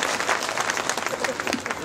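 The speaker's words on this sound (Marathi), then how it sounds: "तर जोरदार टाळ्या त्यांच्यासाठी" An audience at a Buddhist Dhamma conference at the Ajanta caves bursts into loud, dense applause, a brief rattle of many hands clapping at once.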